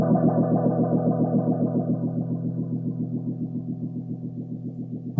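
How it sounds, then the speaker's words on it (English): A guitar through a Condor and Brothers effects pedal in ramping mode, a sustained distorted note pulsing in a fast, steady rhythmic flutter that gradually shifts, heard alone without talk. "Okay, now we can go ahead and engage the pedal, give it a listen, and get it set up just the way we like it."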